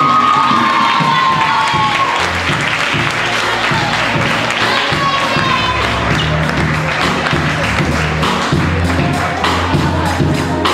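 A school graduation crowd applauds and cheers loudly and continuously, with clapping, shouts and whoops filling the hall throughout.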